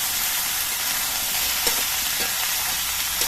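Cut vegetables with salt and slit green chillies sizzle loudly in a pan, a dense, even hiss throughout with a couple of soft stirring knocks near the middle and no voices.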